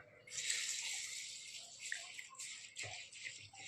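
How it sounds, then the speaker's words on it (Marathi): Masoor dal is rinsed in clean water in a kitchen, giving continuous splashing and swishing with a few small drips and knocks, close by. "त्याला स्वच्छ एक दोन पाण्यात धुवून घेणार आहे"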